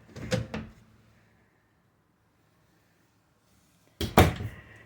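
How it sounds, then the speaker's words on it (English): Full extension drawers in a 2022 Cardinal RV are slid along their runners and shut, giving a short rolling rumble with a soft thud, a stretch of near silence, then another louder, sharper close up close. "these are all full extension drawers"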